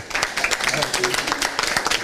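An audience at a culinary training school claps for a giant Victoria pineapple sculpture, a brief burst of scattered clapping heard under someone talking.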